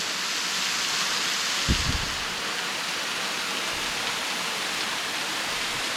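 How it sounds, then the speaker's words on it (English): A waterfall near Brevard, North Carolina pours down onto pitted rocks, producing a dense, steady, close roar of rushing water that stays constant throughout, with a brief low thump near the start. "you can see those pits in the rocks down there where the water's just been beating down on it for probably hundreds of years"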